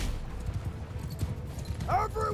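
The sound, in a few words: horses galloping in Mount & Blade II Bannerlord video game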